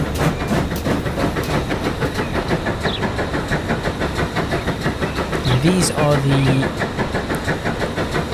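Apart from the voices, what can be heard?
GWR tank engines running in video game Transport Fever 2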